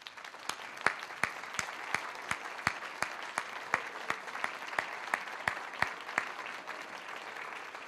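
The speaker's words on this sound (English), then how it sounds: "let's give them a round of applause for all the work that they do." An audience at an Engagement Day morning session applauds extension faculty with sparse, evenly spaced claps, each crisp and distinct, steady and moderately distant for the whole stretch.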